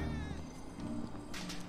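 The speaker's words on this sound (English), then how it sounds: "Go away, kitten." A cat meowing in Final Fantasy VII Remake, a short, rising mewing cry over steady game background sound, followed by a brief softer rustle.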